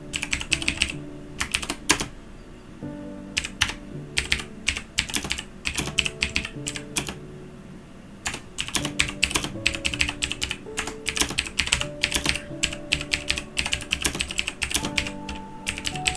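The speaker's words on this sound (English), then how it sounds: "I really need to get a less clacky keyboard because, oh my gosh, if I need to type something while I'm streaming, I feel like for you guys it is so loud." Rapid typing on a loud, clacky computer keyboard while livestreaming, a dense stream of sharp keystrokes with a brief pause partway through, close and clear with no talk.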